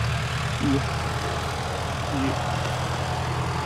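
A Sonalika Tiger 65 HP tractor working a 10-foot Shaktiman rotavator in a field makes a steady, heavy low engine drone with a continuous churning rumble, close and unbroken, while someone speaks briefly over it.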